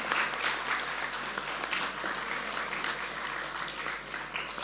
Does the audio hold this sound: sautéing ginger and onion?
no